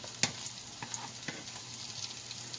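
Onions frying in a pan until golden brown, a soft, steady sizzle close by with a few light stirring scrapes and taps, no voices.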